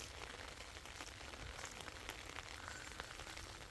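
Steady heavy rain patters on leaves and ground in an orange grove during a harvest, a dense, even hiss with scattered drops, heard at a moderate distance with no voices.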